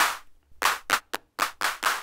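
Clap voice on an Arturia DrumBrute analog drum machine fires as short synthetic hand-clap bursts in an irregular pattern, punchy and noisy with silent gaps between hits and no talking.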